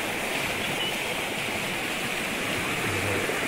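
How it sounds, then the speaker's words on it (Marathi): Water rushes fast and steadily through a channel draining a rice paddy field on a farm, a loud continuous broadband hiss and gush close by, unbroken for the whole stretch. "बघा जोरात सुकता पाणी"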